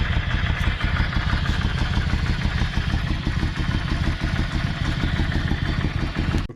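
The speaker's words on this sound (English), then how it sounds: "I'm going to let it run for a while and we'll come back and check it" Steady, close mechanical clatter and hum of a Yamaha V Star 650 motorcycle engine left running on a DIY oil leak repair, constant in level throughout with no talk.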